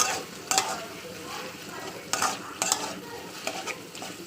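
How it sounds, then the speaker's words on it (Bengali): Papaya greens chorchori stir-fried in oil in a pan, with soft continuous sizzling punctuated by several sharp scrapes and clinks of a spatula stirring against the pan. "এটা ভালো করে তেলের উপর কষে নেবো।"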